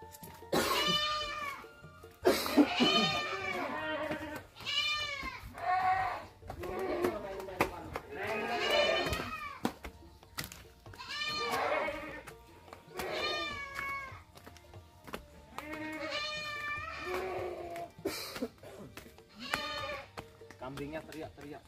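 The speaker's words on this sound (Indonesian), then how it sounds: "Kambingnya teriak-teriak, guys." Goats bleat loudly and repeatedly at feeding time in a rural village, with overlapping wavering cries in bursts across the whole stretch and short pauses between them. Occasional voices are heard among the calls.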